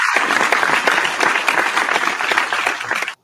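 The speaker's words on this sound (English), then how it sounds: "Nice applause for that." Dense applause from a small audience fills the room, steady and close for about three seconds before cutting off abruptly.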